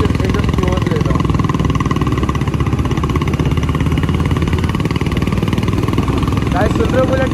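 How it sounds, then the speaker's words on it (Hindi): Royal Enfield Bullet motorcycle engine running close by on a highway, a loud continuous thumping drone with a rapid steady pulse, heard alongside road and wind noise. "ओ भाई आवाज़ सुनो बुलेट की"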